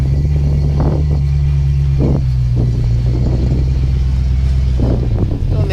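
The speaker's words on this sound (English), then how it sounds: "You hear it camming a little bit." A cammed Fox body car idles with a loud, close, lumpy lope, its deep rumble pulsing unevenly as the engine hunts, with a few louder surges breaking through the steady drone.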